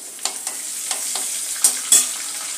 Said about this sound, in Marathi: हिंग चांगला आपण परतून घेऊया